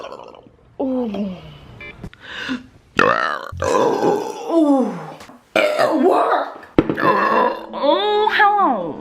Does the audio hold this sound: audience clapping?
no